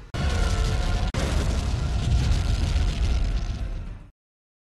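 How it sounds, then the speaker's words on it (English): A bomb explosion set off aboard the Babylon 5 station, a loud, sustained roaring blast lasting about four seconds, broken by a brief cut near the start and then cutting off abruptly. "The Minbari sets off a bomb, and Sinclair hightails it out of there."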